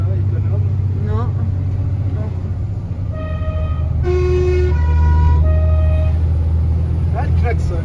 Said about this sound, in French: Ah, le klaxon, hein.